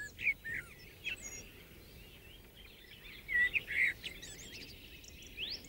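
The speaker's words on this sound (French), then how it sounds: "Voici le chant d'un merle" Blackbird singing outdoors in a mountain setting, a few faint fluting and warbling phrases coming and going against quiet background hiss, with a lull between bursts.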